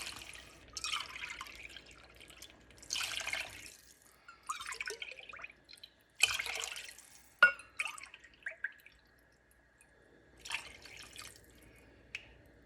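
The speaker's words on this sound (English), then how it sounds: "This is the water I have from rinsing the mixer jar or KitchenAid." Rinse water from a KitchenAid mixer jar is poured into a pot of chicken pulao in several separate splashing bursts with quiet gaps between them, close and moderately loud.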